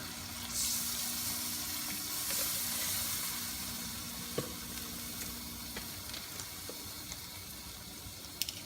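Water goes into a hot pan of milkfish stew, giving a soft, steady sizzle and hiss with faint splashing, fairly quiet and with no one talking.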